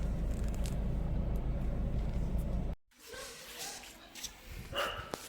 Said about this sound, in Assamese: কুকুৰে যিটো ভুকিছে মানে।